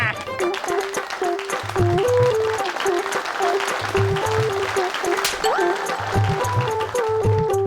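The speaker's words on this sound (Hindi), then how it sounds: "मानव, मेहर और बल्लू के लिए एक बार फिर से जोरदार तालियां" An audience claps for three children on a superhero TV show. The applause sits under a loud, rhythmic music cue with a pulsing bass beat, and voices can be heard in the mix.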